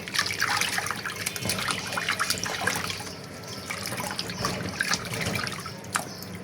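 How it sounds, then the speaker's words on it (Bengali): Running water splashes and trickles steadily nearby, with sloshing and light knocks as something is rinsed under the stream. "মাছগুলো ধুয়ে নিচ্ছি আর মাছগুলোই ভুনা করবো"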